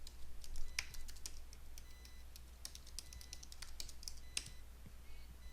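Quiet, irregular keystrokes tap out a password on a computer keyboard, a short run of light clicks with small pauses between bursts.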